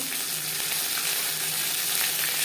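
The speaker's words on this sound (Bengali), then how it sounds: "15-20 সেকেন্ড জিরে তেজপাতা ভেজে নেওয়ার পর" Cumin seeds and a bay leaf fry in hot oil for a Bengali tangra fish curry, giving a steady, close crackling sizzle that runs evenly throughout with no talk.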